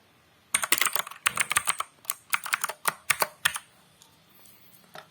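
Bursts of quick, crisp key presses on a computer keyboard while a bash script is typed, with short pauses between clusters, close and clear over a quiet background with no voices.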